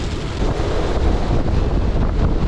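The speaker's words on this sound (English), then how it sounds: "Conditions had now reached storm force, with winds gusting 50 knots." Storm-force wind gusting around 50 knots batters a sailboat at sea, a loud, continuous roar of buffeting wind across the microphone mixed with rushing waves and water, steady and close with no voices.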